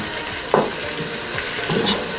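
Onions frying in a pot with chilies, salt and black pepper give a soft, steady sizzle close by, with a couple of brief stirring scrapes and splashes over the hiss.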